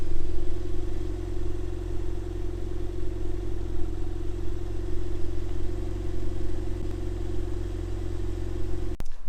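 A Toyota MR2 with custom suspension drives along, its engine holding a steady, even drone with a constant low hum throughout, ending in a sharp click.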